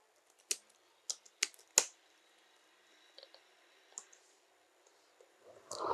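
Code being typed on a computer keyboard, heard as a few sharp, close key clicks early on, then lighter scattered taps in a quiet room.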